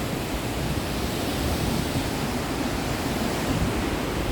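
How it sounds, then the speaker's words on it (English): Waterfalls on the forest trek to the Double Decker Living Root Bridge in Cherrapunjee, Meghalaya, give off a steady, even rushing roar that stays loud and unbroken throughout, with no voices. "Lots and lots of waterfalls"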